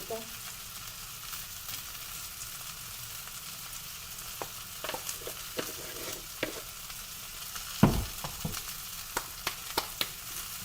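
Cauliflower sabzi being stirred in a pan over a low flame, with a soft steady sizzle and a scatter of light spoon scrapes and taps, some louder clatters near the end, no talking.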